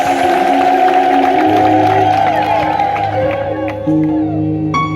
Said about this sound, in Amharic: ክብር፣ እልልታ፣ ጭብጨባ ለኢየሱስ ይሁን።